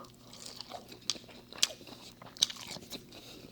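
Crunchy deep-fried Aussie fries from Outback being bitten and chewed close to the mouth, with three sharp crisp crunches standing out over softer ongoing chewing.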